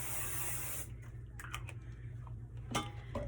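A sustained hiss of aerosol spray for almost a second, close and fairly loud, then quiet with a few light clicks and taps.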